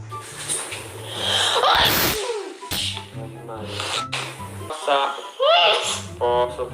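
Repeated sneezes from a person in a comic sneezing-fit scene, several sharp bursts spread across the span with a loud one near the middle, mixed with speech and background music.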